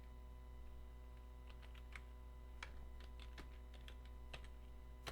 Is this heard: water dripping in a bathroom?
no